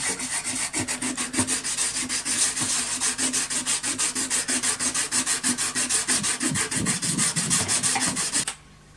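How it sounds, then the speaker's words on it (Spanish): Steady back-and-forth sanding of rusty galvanized sheet metal with 320-grit sandpaper, a loud rhythmic rasping of quick even strokes that stops abruptly near the end. "Quito el óxido grueso con lija 320."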